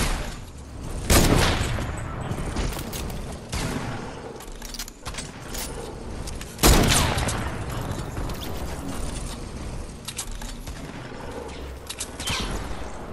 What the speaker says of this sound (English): Oh, I hear shooting, let's go.